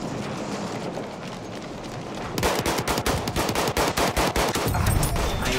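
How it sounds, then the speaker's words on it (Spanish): Rapid bursts of automatic gunfire in Battlefield 1 rattle loudly after a stretch of rushing background noise, shots coming in quick repeated volleys. "Estoy corrigiendo la puntería mientras disparo para asustar"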